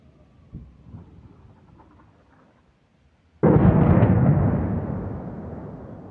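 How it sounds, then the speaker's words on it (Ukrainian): After a few seconds of quiet low rumble, a single loud, heavy howitzer boom bursts out and rolls away slowly in a long reverberating tail, in Kherson, Ukraine. "Це ще, мабуть, не одна гаубиця стріляє, тому що дуже швидка перезарядка"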